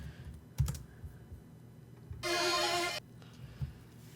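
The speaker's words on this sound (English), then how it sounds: "I'm just going to type it." Several quiet keystrokes on a computer keyboard in a music production setup, followed by a brief, loud, bright tonal burst and then low room noise.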